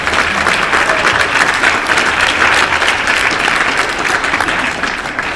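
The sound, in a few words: live podcast audience applause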